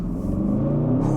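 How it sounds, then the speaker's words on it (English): A 2023 Aston Martin DBX 707 SUV with an AMG engine and a retuned, louder exhaust rumbles steadily with a deep, low drone and slight rising pitch, heard from nearby without any talk. "Oh, listen to the exhaust."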